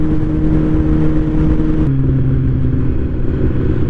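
Kawasaki Z1000 motorcycle engine while riding, a steady loud drone with a dip in pitch partway through, with wind rumble and no talk.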